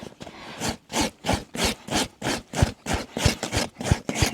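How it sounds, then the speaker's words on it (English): A farrier's rasp drawn back and forth across a horse's hoof to level it flat, a steady run of about a dozen rough, scraping strokes in even rhythm, close and clear with no talking. "our rasp over the hoof, just so we get a nice, level, flat surface"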